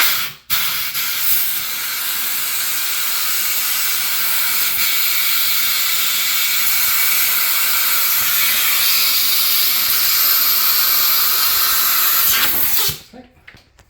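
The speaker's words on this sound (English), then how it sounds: "So I got my air compressor. I'm going to put it in that hole. It's got to squirt out a little bit of air back at me." An air compressor nozzle blows air through a mini-split drain line, a loud continuous hiss lasting about twelve seconds before it cuts off abruptly.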